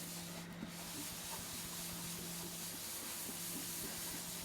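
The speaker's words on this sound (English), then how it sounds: "It's like the sound of abrasion, but very light abrasion." A cloth rubs finish by hand onto a bespoke guitar, giving a faint, steady light-abrasion hiss with soft repeated strokes, close up and quiet.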